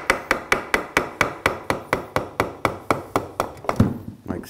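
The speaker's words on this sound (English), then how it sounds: "I'm just going to take a hammer and knock the strut right out of there" A hammer strikes wood again and again in a fast, steady rhythm, knocking out a wooden strut, about twenty sharp knocks close by, slowing slightly near the end.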